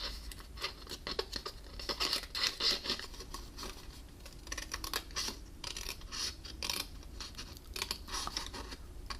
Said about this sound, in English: we're also going to cut up along it to the same point where we cut that first one